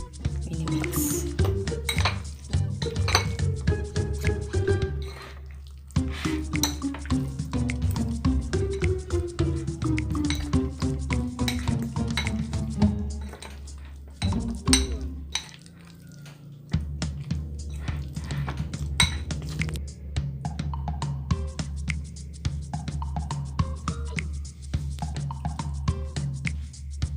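Continuous scraping and clinking of a utensil against a bowl as calamari batter is stirred, rhythmic and close, with a brief pause midway and low humming underneath.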